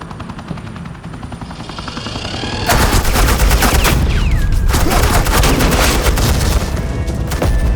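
Dense, rapid gunfire of suppressing fire erupts in Batman: The Enemy Within, a continuous loud barrage of bursts over a rumbling low background that builds up beforehand.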